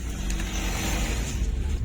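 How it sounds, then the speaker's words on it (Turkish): A car being driven, its engine and road noise a close, steady low rumble with slight surging, no talk over it. "Gidiyoruz şimdi arabayla."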